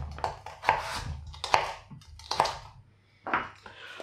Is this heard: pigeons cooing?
no